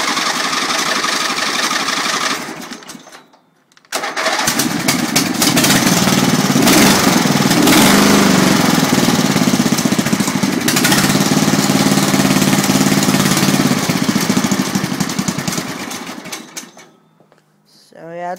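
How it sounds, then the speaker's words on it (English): A cold garden tractor engine cranks, cuts out briefly, then catches and settles into a loud, steady low idle close by before shutting off near the end. "But I'll start it for you real quick. Low idle."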